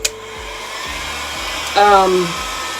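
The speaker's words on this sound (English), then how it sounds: "I'm gonna use my heat gun, and since this is a surface that we don't want to melt, we're just gonna dry it quietly." A heat gun blows steadily to dry chalk paste on a surface, a continuous close whirring roar with a faint pitch shift partway through.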